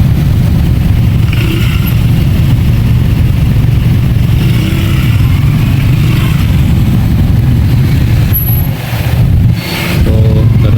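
Steady road traffic on a busy one-way street in Pandacan, Manila, with car and motorcycle engines idling and accelerating, a continuous loud low rumble with no talking.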